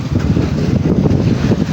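Loud, buffeting wind roaring across the microphone at sea with strong waves, a constant wash of sea noise, unbroken and close.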